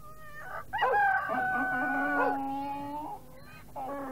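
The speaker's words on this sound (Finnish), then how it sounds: "Aasi karjui, koira haukkui, kissa naukui ja kukko kiekui." Barnyard animals in a fairy-tale concert: a donkey, a dog, a cat and a rooster, heard mainly as a loud, drawn-out rooster-like crow with howling tones layered over it, fading briefly before another call begins.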